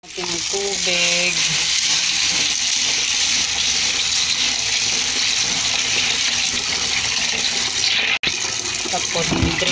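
Soaking water poured off food in a kitchen, a steady continuous rush of running, splashing liquid close by, with a brief break near the end.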